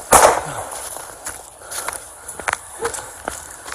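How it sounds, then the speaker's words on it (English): A single sharp, loud gunshot bursts out at the start of a police confrontation with a knife-wielding man on a bike path, followed by fainter scuffling knocks and footsteps. "Shots fired."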